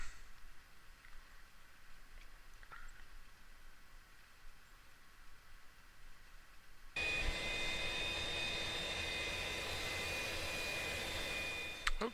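A jet aircraft engine starting up in the DCS flight simulator game: quiet cockpit hum at first, then a sudden loud steady whine and roar that holds to the end.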